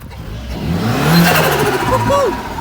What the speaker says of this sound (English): apparently it's got mad turbo flutter because there's a blank plate on it now